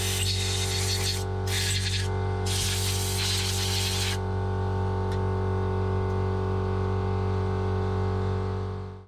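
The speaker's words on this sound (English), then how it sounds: "Same again, blow out your float bowl" Compressed air blasting into a Keihin PWK carburetor float bowl from a trials bike: three loud hissing bursts over the first four seconds, then only a steady background hum remains.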